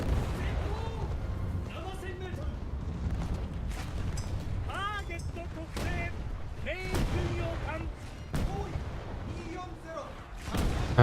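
Battleship guns fire at targets in a naval video game, a series of booming shots, some faint and some close, over a steady low rumble of the sea and engines.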